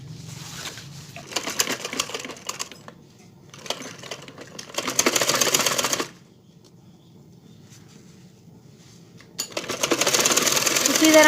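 Sewing machine stitching the shoulder seam of a garment in several separate bursts of rapid clatter, broken by quiet gaps, with a voice speaking faintly between runs.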